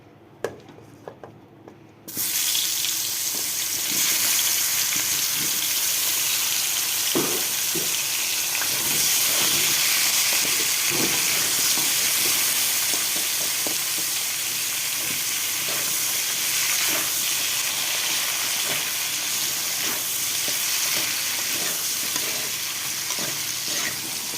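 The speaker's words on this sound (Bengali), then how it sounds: "তো কাঁচকলা আলুটা ভেজে নিচ্ছি বন্ধুরা।" Raw plantain and potato pieces frying in oil in a kadai for a Bengali dish, a steady, close sizzle with small crackles and stirring clatter that holds for over twenty seconds after a quiet opening.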